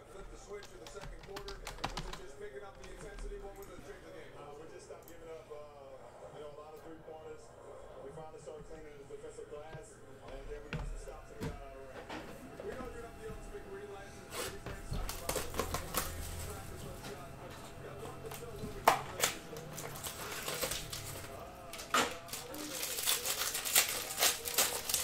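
Hockey card packs of 2019-20 Upper Deck SP Game Used being torn open, crinkly foil wrappers ripped and rustled close by, with card shuffling and clicks, under intermittent talk.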